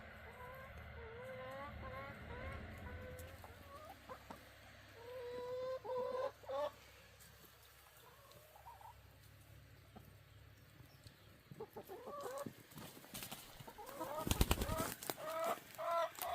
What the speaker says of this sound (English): the chickens are all out and engaged